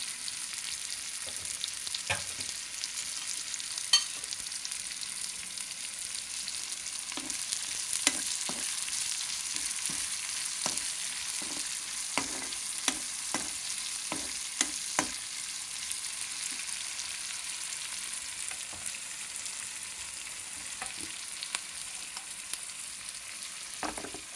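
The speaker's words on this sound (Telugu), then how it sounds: "కొద్దిగా వేగాలండి, మెత్తబడాలి." Salted food softens as it fries in a pan, giving a steady sizzle broken by repeated scraping stir strokes at close range, with no one speaking.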